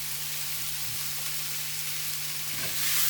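Red and yellow peppers frying in a pan for spicy tacos, a steady close sizzle with a brief stir and a swell of hissing at the end, no voices.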